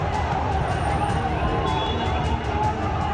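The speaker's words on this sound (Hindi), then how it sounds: "नारायण राणे के घर की तरफ बढ़ती भीड़।" A crowd of angry Shiv Sena workers advancing toward Narayan Rane's house in Maharashtra, a dense, continuous roar of many voices with rhythmic shouting bursts, fairly close and loud throughout.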